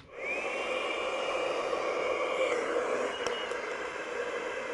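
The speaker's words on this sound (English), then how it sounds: "So I'll go ahead and turn on the blower." A 3M Powerflow powered air respirator blower spins up and runs at a steady whirring hum, close and continuous after a quick start, with no talk over it.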